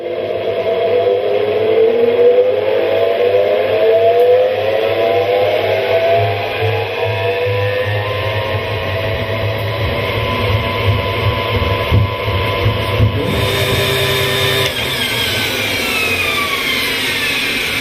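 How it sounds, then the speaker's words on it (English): An electric honey extractor spinning honeycomb frames at high speed gives off a loud, steady motor hum with whining tones that rise and fall as the drum turns, running continuously with no talk. "When the electric motor is switched on, the frames are spun at high speed."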